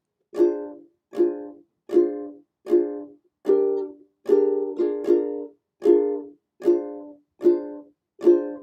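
Ukulele played with a barred chord shape, struck in a steady series of about a dozen short, crisp strums. Each chord is close and clear and decays quickly, with no voices.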